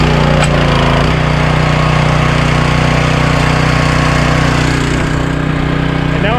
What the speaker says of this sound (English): And now our pressure washer is running.